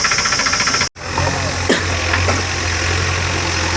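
A tractor engine idles steadily while waiting in line for JCB soil loading, a low continuous rumble with a faint knocking throb, briefly cut by a short dropout near the start.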